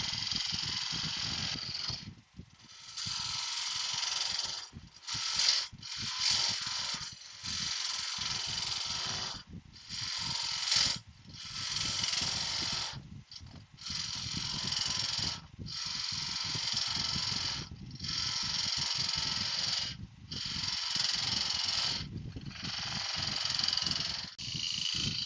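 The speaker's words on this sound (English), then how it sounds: "Just riding the bevel, let the gouge go at its own pace." A gouge rides the bevel cutting an oak bowl on a wood lathe, making a steady close hissing shear that runs in long passes broken by short regular gaps.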